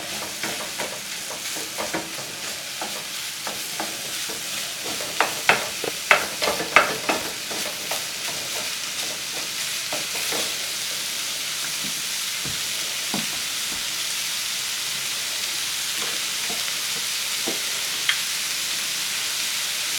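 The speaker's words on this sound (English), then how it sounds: "while the ground beef is being brown, we're going to also caramelize our onions" Ground beef browning alongside onions caramelizing in a pan, a steady close hiss of frying with scattered crackles and pops and occasional stirring scrapes, no talking.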